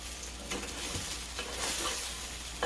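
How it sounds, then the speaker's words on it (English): Ripe, soft plantain frying in coconut oil gives a soft, steady sizzle with occasional faint stirring sounds, fairly quiet and close, with no talking. "You just fry them in the oil."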